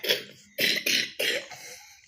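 A woman coughs several times in a row at home, a quick first cough followed by three louder, harsher bursts with short pauses between, close and clear with no talking.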